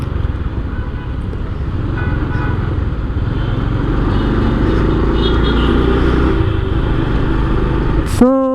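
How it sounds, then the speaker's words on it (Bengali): A motorbike rides through busy Gulshan traffic in Dhaka, its engine droning steadily up close amid surrounding road noise, with a sharp horn-like blast near the end. "অভিজাত এলাকায় আমার এই গরিব বাইক নিয়ে আমি ছুটে চলেছি"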